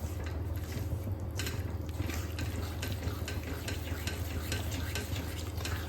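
Flour roasts in ghee for farali sukhdi, stirred without pause, giving a continuous soft scraping and gentle sizzle close up, with a steady low hum underneath and no voices.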